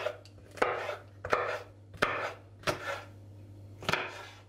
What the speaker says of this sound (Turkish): Kapya biberleri de kesiyorum.